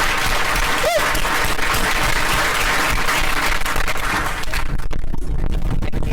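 Applause for panelists at the close of a housing policy event, a full, loud round of clapping that carries on throughout, thinning slightly near the end.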